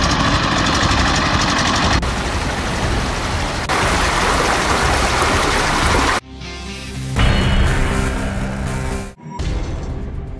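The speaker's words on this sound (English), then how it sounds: "the Watermaster saves time, money, and minimizes environmental impact while completing a wide range of tasks" A Watermaster amphibious multipurpose dredger works in shallow water, its engine running as a loud, steady broadband roar. Water churns and splashes beneath it, and the sound shifts abruptly partway through.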